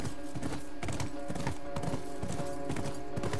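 Rapid, rhythmic clip-clop of horse hooves galloping in the PS4 game The Last of Us. The beats are steady and close, with no talking.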